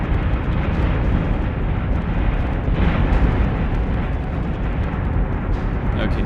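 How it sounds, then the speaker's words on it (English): Missile explosions in the space battle game Battlestar Galactica Deadlock make a dense, continuous roar of rumbling blasts and booms that runs steadily for the full stretch without letting up. "Missiles incoming."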